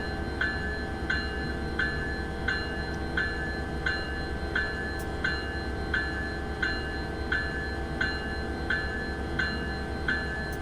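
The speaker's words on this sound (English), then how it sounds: "I have now turned on the bell because I believe it is correct procedure to have the bell sounding" Locomotive bell in Train Simulator 2016 on the North Jersey Coast route rings steadily, about one strike every 0.7 seconds, over a continuous low diesel engine rumble, with no talking.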